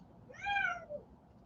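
A single drawn-out cat meow indoors, fairly clear but not loud, rising and then falling, over a quiet room background.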